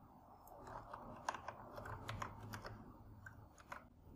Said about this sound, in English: Then type here some commands